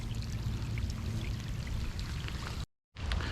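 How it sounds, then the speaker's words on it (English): Steady rain falls by a river while out bream fishing, a continuous close hiss and patter that cuts out for a moment before resuming. "the rain's coming down quite a bit now"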